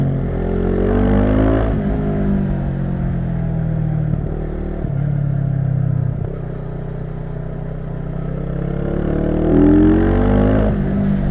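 A CFMOTO 800NK street motorcycle engine drones loudly and close, its pitch rising and falling through several revs over a steady rumbling idle.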